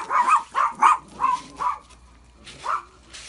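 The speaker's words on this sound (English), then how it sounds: "I have dogs." Dogs barking indoors in a home workshop: a run of five sharp, loud barks in quick succession, a pause, then one more bark, with no talking.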